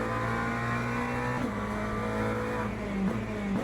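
A GT3 race car in Le Mans Ultimate drones steadily as its engine accelerates, the pitch climbing and shifting through gears with a faint tire squeal, loud and close with no talk.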